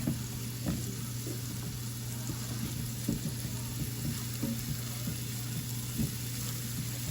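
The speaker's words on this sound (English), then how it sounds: "you just want to saute this up until the garlic gets fragrant because you don't want your garlic to burn." Garlic and green peppers sizzle softly in a pan as they saute, a steady low frying hiss broken by small light stirring taps, fairly quiet and close with no talking.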